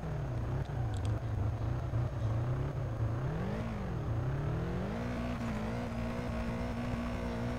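A modded Sultan RS car drifts in the Drift Streets Japan video game, its engine droning steadily and rising and falling in pitch as it revs through corners, loud and continuous with no talk.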